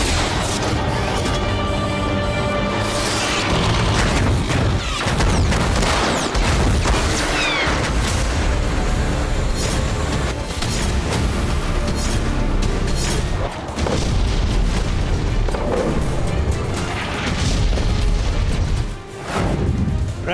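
Artillery fire and explosions from a Chinese weapons test deliver a dense, loud barrage of heavy booms and blasts, running almost continuously with brief dips between bursts.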